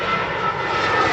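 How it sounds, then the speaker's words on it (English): A propeller airplane drones overhead outdoors in Canada, a loud, steady, broadband engine roar filling the moment without any speech. "That's a plane."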